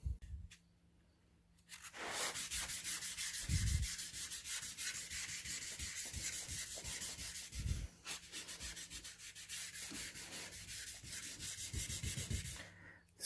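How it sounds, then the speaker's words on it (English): Wet sanding of a rusty surface by hand with 600-grit sandpaper and water, a close, steady rasping rub in repeated back-and-forth strokes after a quiet start, with a few brief pauses and no talking. "This is wet sanding with 600 grit."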